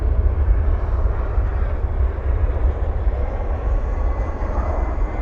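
A Qatar Airways airliner moves on the west side of DFW airport at night, a loud continuous jet rumble heavy in the low end, steady and close with slight swells.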